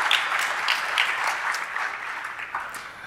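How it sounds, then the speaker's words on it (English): Steady applause from an audience fills the room after a conference talk on penetration testing a city, with crisp clapping at moderate distance and no talking. "please give them a warm round of applause"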